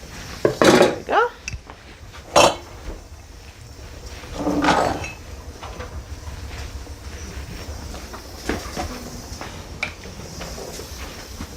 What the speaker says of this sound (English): Let me just empty everything here in the pot.